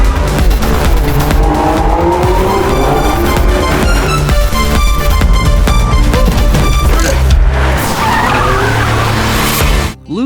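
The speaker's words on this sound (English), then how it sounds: "Unha then showcases her skills, drifting and skidding through the streets." Car drifting through city streets with tires squealing in long wavering shrieks over a loud revving engine, continuous and close for about ten seconds before a brief drop at the end.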